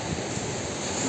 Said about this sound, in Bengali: বুঝছো জলের আওয়াজ।